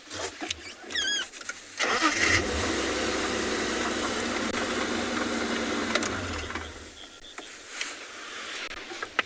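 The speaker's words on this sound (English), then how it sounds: "I'm just going to switch on my vehicle." A safari vehicle's engine turns over and settles into a steady mid-pitched running drone in the open bush during a morning game drive in South Africa, close and continuous for several seconds before easing off, with no talk.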